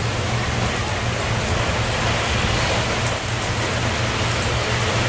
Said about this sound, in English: So rainy, rainy night here in Trinidad on the 12th of November